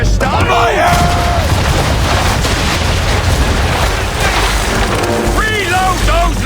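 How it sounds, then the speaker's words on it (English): A ship's cannons fire a broadside in Assassin's Creed 3, heavy booming blasts rolling into one another, loud and close, with shouted voices cutting through the din. "broadside, and when all guns are on target, call fire"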